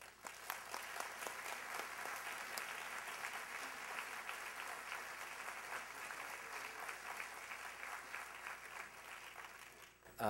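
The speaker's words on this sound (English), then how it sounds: "Round of applause for Amherst Media." Sustained audience applause fills a room at a 2011 Amherst Area Chamber of Commerce A+ Awards ceremony, steady dense clapping for about ten seconds before cutting off abruptly.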